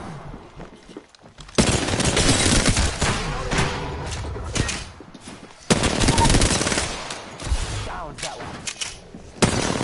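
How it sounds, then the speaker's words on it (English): Bursts of automatic gunfire and single shots in a first-person shooter match fought around a house, loud and dense, with short lulls between volleys and stronger bursts near two and six seconds. "Taking fire."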